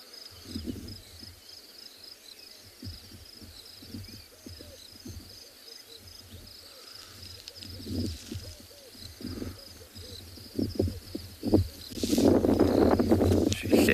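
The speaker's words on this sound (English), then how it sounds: "You can hear the beautiful sound of the birch's cuckoo going." Burchell's coucal calls during a morning safari drive in South Africa, a series of low, bubbling hoots heard at a distance over a steady insect drone, with a vehicle rumble rising near the end.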